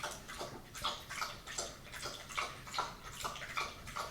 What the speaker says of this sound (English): Loud licking.